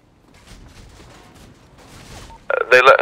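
A loud burst of gunfire near the end of a GTA 5 roleplay gang fight, following quieter background chatter and game ambience, with sharp, closely spaced shots.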